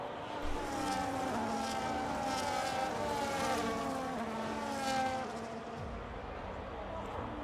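Engine drone of cars in a Formula 1 video game as the safety car comes in, a continuous near whine with shifting pitch, under faint talk.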